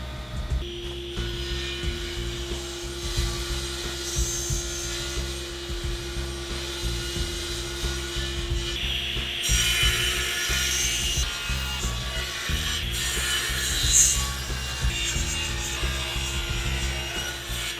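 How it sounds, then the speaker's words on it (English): Jointer and table saw milling a mahogany slab into plant stand legs, a steady continuous machine drone with layered cutting noise and occasional brighter swells, sustained and fairly close throughout with no talking. "straighten one edge at the joiner, and then I'm going to clean up the opposite edge at the table saw"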